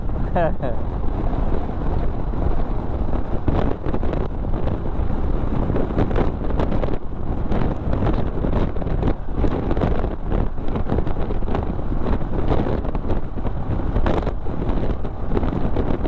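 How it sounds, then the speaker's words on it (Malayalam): Strong wind buffets the microphone in a constant roar during a motorcycle ride, with a person talking over it. "ഓ ഭയങ്കര കാറ്റുണ്ട് കേട്ടോ"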